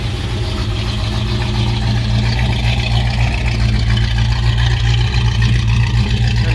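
A restored 1963 Chevrolet Nova SS convertible runs with dual 2.5-inch exhaust pipes and a crossover pipe, giving a steady, loud, low idling rumble that holds even for the whole stretch with no voices.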